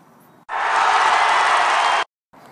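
A crowd erupts in loud, sustained cheering and applause that swells abruptly, holds steady for about a second and a half, then cuts off sharply, with brief quieter background noise before and after.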